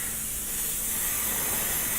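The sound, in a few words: spraying Pledge floor polish onto a model kit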